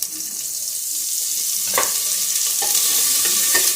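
Garlic, asafoetida and coriander sauté in a hot pan, with a steady bright sizzle throughout and a few soft scrapes of stirring near the end.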